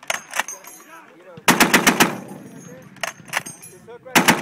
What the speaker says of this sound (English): 6 to 8 round burst on machine gun